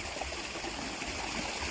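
Irrigation water from a farm pump pours steadily into field trenches, a continuous, close rushing flow with no pauses and no voices throughout.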